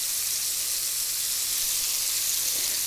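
Onions sizzling in hot butter in a pan, a steady bright hiss of frying that holds constant and fills the clip, close and fairly loud, with no voices.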